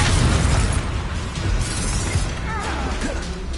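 A loud, rumbling blast from the Confringo fire spell in the Hogwarts Legacy video game, a heavy boom with crackling debris that lingers and fades, with no talk heard.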